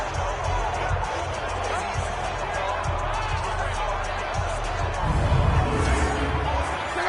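Steady roar of a stadium crowd inside the Saints' Dome in Madden 20, a dense, continuous wash that swells louder near the end, with a commentator's voice running over it.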